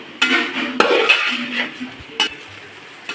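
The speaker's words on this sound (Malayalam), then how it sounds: "ഇതൊന്ന് നന്നായിട്ട് മിക്സ് ചെയ്യാം ഈ മസാലയൊക്കെ ഇതിലൊന്ന് പിടിക്കാനായിട്ട്" Potty fry, made with tripe, is stirred with masala in a pan. A utensil clatters and scrapes against the metal in repeated near, loud strokes over a faint sizzle, with no voices.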